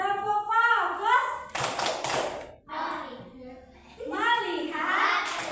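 Schoolchildren in a classroom doing a rhythmic focus clap, short bursts of group claps and taps in a set pattern alternating with children chanting and a teacher's voice.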